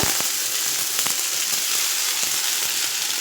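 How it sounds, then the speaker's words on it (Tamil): Ground onion paste hits hot oil already popping with mustard seeds and fenugreek for a okra kara kuzhambu, producing a loud, dense, continuous sizzle with crackling spits close up, no voices. "இப்போ கடுகும் வெந்தயமும் பொரிஞ்ச உடனே நம்ம இந்த பெரிய வெங்காயத்தை சேர்த்துடலாம்"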